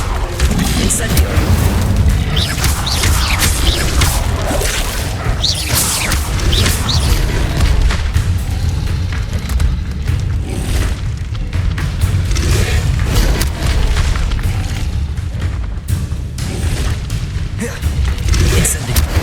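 Incendio fire spells blasting repeatedly in Hogwarts Legacy, a dense, loud run of booming bursts and crackling impacts layered over continuous game action for the whole stretch.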